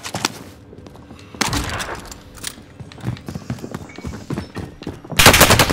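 Bursts of video game gunfire crack in quick irregular volleys, loud and close, with a heavier blast of noise at the start and another near the end, and little speech over the shooting.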